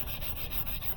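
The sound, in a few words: sandpaper sanding a 2014 Mercedes headlight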